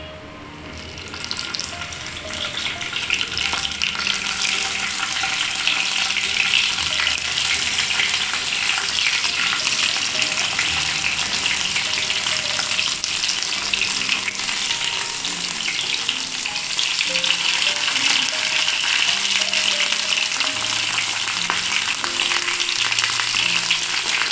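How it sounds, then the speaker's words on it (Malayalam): Okra dropped piece by piece into hot coconut oil, frying with a steady, loud crackling sizzle that runs unbroken throughout, with no talking. "വെളിച്ചെണ്ണ ചൂടായിട്ടുണ്ട് നമുക്ക് വെണ്ടയ്ക്ക് ഓരോന്നോരോന്ന്"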